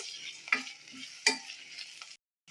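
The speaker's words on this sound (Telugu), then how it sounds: "ఇప్పుడు అల్లం వెల్లుల్లి పేస్ట్ వేసేస్తున్నాను. ఈ అల్లం వెల్లుల్లి పేస్ట్ కొంచెం వేగాలి." Ginger garlic paste frying with onions in a pan for a vegetable khichdi, a steady close sizzle with two sharp stirring scrapes, fading to silence near the end.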